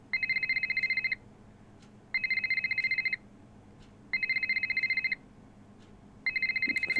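Telephone ringing in the video game Nancy Drew: Ghost of Thorton Hall, an electronic trill in four even one-second bursts separated by pauses, clear and close with no talk.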